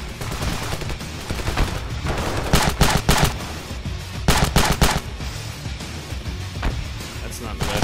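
Dense, sustained automatic gunfire in the video game Ravenfield, rapid loud bursts and overlapping volleys in a battle at a bridge, with a voice talking over it.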